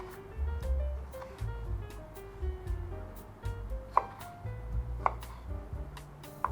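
A knife cuts a tomato on a board while the food is being prepped, giving a few soft, muted chops and a couple of sharper taps under a low, uneven background.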